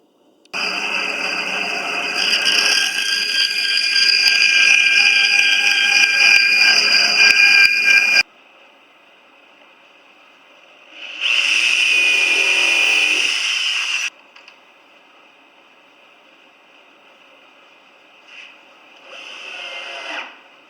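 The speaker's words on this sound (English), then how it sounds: "Now I'll cut the notches out on the bandsaw." A bandsaw cuts notches in wood with a loud, steady high-pitched blade whine for about eight seconds, then a shorter second cut and a brief faint third pass, separated by quiet idling.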